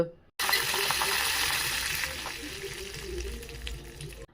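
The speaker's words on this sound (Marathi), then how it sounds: "आता कढईमध्ये थोडंसं तेल गरम करूया मग त्यात जिरं मोहरी आणि कढीपत्ता" Cumin, mustard seeds and curry leaves hit hot oil in a kadhai, a sudden loud burst of crackling sizzle that stays steady and close, then slowly eases.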